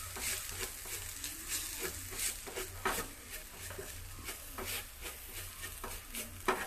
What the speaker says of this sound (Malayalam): ഇതിൻ്റെ പച്ചമണം മാറുന്ന വരെ നന്നായിട്ട് ഇതൊന്ന് വഴറ്റി കൊടുക്കാം.